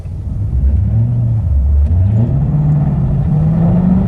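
Pontiac G8 with a six-speed, LS3 V8 and LSA supercharger, a loud close deep engine rumble rising and falling as it revs, steady throughout with no talking.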